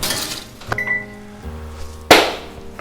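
A metal tray of buttermilk biscuits slides into a kitchen oven, with a few light clinks and thunks and a brief metallic rattle before a sharp bang as the oven door shuts, close and alone.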